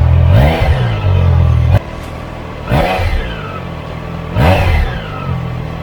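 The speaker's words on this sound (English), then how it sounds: "when you rev off the 660cc inline 3 engine, it's pure symphony." A Triumph Trident 660 motorcycle's 660cc inline-three engine revs hard three times in quick succession, each rise in pitch falling back to a throaty idle between bursts, loud and close.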